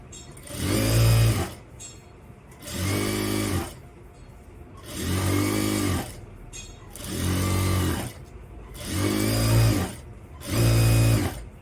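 Sewing machine double-stitching a pair of pants, running in six even bursts of a couple of seconds each, with short pauses between, close and clear.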